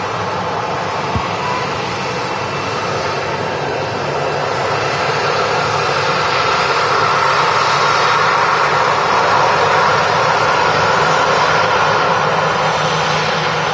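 A Ryanair Boeing 737 at Manchester Airport gives a steady, loud jet engine roar that swells gradually, a continuous broadband rush with no voices.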